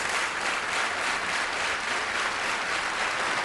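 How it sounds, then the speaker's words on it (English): Stadium crowd at an indoor track meet clapping in a broad, steady wash of applause, loud and unbroken, with no voices standing out. "As you hear the clapping inside here"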